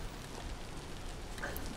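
Rain in the video game Vintage Story, turned down to a low level, a faint continuous hiss of falling drops with no other sound.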